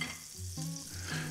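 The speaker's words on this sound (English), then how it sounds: "it should start gently sizzling." Oil and butter gently sizzle in a frying pan inside a crumpet ring, a quiet, steady crackle with soft pulsing low hums, close and alone.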